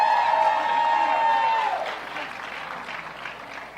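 A rally crowd applauds and cheers in a broad, diffuse roar under a held, tonal voice, which fades down over the last seconds.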